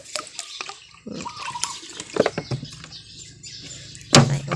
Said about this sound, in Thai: แล้วก็ถังน้ำนี้ก็ใส่ น้ำมาประมาณ 9 ลิตรนะคะ